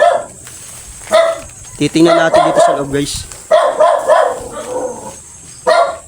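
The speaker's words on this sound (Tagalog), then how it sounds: "Daming aso." Several dogs bark in bursts near a pig pen where an old man lives, with louder barks around the middle and end, and someone talking between and over them.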